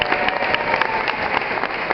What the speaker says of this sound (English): give Habib a round of applause